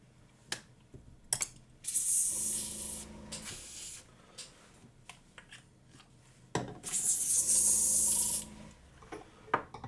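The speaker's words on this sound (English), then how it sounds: "I love the airbrush. It's so good for this sort of stuff." An airbrush sprays paint onto a White Ape Troll miniature in two long hissing bursts, each about two seconds. Small clicks and handling taps from the brush and model come between the bursts, and nobody talks.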